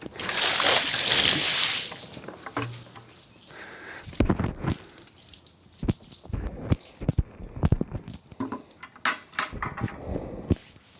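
Water from a bucket gushes and splashes onto the bed cover of a Rivian R1T pickup in a loud two-second pour, followed by scattered drips, knocks and handling sounds.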